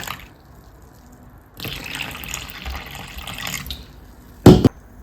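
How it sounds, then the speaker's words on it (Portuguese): Water poured from a tap or jug into the middle of bread dough in a home kitchen, a brief hissing gush followed by a sharp louder splash near the end. "E aí eu vou jogar água aqui no meio."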